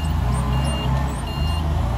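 A forklift's reversing alarm beeps steadily and faintly in a snowy loading area, repeating over a loud low engine rumble.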